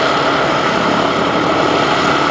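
A Vought F4U Corsair's radial engine runs up at an air show demonstration, a loud, steady, dense propeller roar that holds constant close by without pause or voices.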